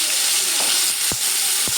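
Small onions, about fifteen of them, frying in oil in a pan for fish curry, with a steady close hiss of sizzling and a few sharp stirring knocks.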